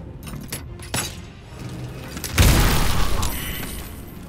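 Braziers shot and blown apart in Baldur's Gate: a few sharp taps and clinks, then a heavy booming burst that rumbles and crackles for a couple of seconds, loud and close.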